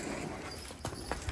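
Buffalo heifers being walked on a farm, their hooves striking the ground in a few scattered clip-clop steps, close by and moderately loud with no talk.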